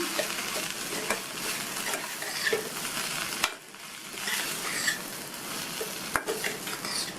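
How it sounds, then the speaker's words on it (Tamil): Fried raw banana pieces are stirred into masala in a pan, with a continuous close sizzle broken by repeated scraping and clinking strokes of the spoon against the pan, and no talking. "எண்ணெயில் பொரிச்ச வாழைக்காயை இதில் சேர்த்துட்டு நல்லா ஒரு தடவை மிக்ஸ் பண்ணி விட்டுக்கணும்"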